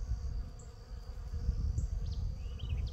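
Honeybees at a hive, a dense low buzzing drone of many bees close by with a few individual bees whining past higher up.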